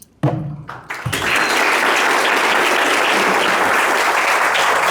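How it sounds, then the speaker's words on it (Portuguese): Strong, steady applause from an audience at a talk on music and racism, starting after a few brief sounds and then filling the room evenly at a loud level until the end. "Daqui a pouco as palmas diminuem"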